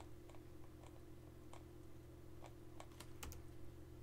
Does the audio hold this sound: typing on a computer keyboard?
yes